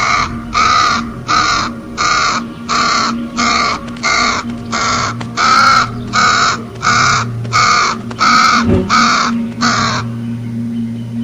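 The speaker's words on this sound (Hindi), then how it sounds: "तभी कौवा चिल्ला चिल्ला के उस आदमी को परेशान करने लगता है।" A cartoon crow caws loudly and insistently, about fifteen harsh, evenly spaced caws in a steady rhythm, close and dominant, with no talking.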